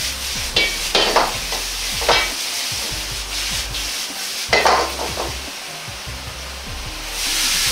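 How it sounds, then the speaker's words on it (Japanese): Rapid scraping and stirring of cabbage in a pan over high heat with a steady background hiss, irregular bursts of clatter, and a louder rushing sound at the end. "キャベツの水分を飛ばすように強火で炒めていきます"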